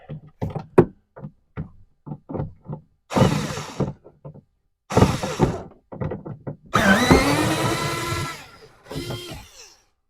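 A screw is worked out to drop a hall ceiling panel: a string of sharp clicks and taps, then several louder rasping mechanical bursts, close and alone.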